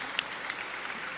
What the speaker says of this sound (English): how about a round of applause for the mayor for putting that in tonight?